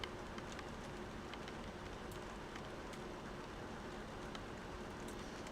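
Heavy rain pours steadily outside a sailboat, a soft, even hiss with scattered drops tapping on the hull and deck, heard faintly from inside the cabin with no voices.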